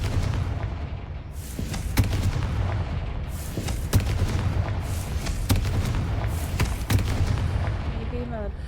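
Confringo blasting spell explosions in the Hogwarts Legacy video game, several sharp booming bursts at roughly regular intervals over a dense rumbling game soundscape, with a voice talking over it.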